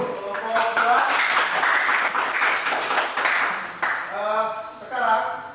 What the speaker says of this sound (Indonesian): Ini tepuk tangan untuk kelompok